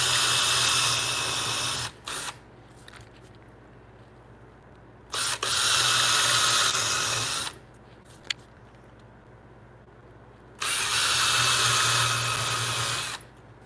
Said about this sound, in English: doing smaller drills with the Forstner bit is a little more manageable